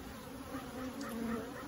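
Agitated honey bees drone around an open single brood chamber hive, a close, steady buzzing swarm with a few louder passes of individual bees near the listener, no talking.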